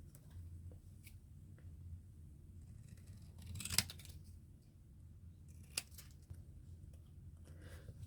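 Scissors snip paper for a vintage Christmas collage book: a few scattered, quiet cuts, one sharper snip standing out, over a low steady hum with no talking.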